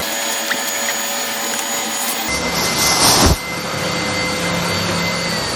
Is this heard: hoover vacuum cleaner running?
yes